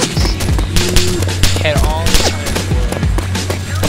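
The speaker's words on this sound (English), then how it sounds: "Fuck, they're shooting at me." Rapid bursts of gunfire in DayZ Origins near a lighthouse, sharp repeated shots cracking over a low rumble while someone talks tensely throughout.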